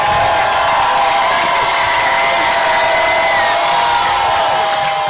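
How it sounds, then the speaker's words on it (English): Spectators at a high school football game between West Branch and West Burlington/Notre Dame cheer from the stands, a steady, loud wash of crowd noise and shouting heard from a distance, with no break. "Those loyal West Branch followers are whipping it up on the far side. The crowd's getting into it."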